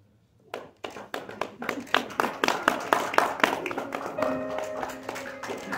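Guests at a wedding clap for a newly presented married couple: sharp, close handclaps that start suddenly and quickly build into brisk, uneven applause, with a faint voice near the end.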